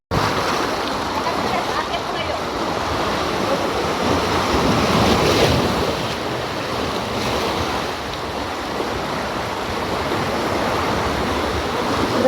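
Heavy ocean surf crashes steadily at South Bay Beach near Godzilla Rock, a continuous loud roar of breaking waves with some wind buffeting the microphone throughout.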